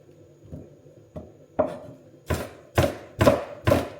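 A knife chops onions thinly on a board in a steady series of about eight crisp strikes, starting soft and growing louder and sharper, close and alone with no talk.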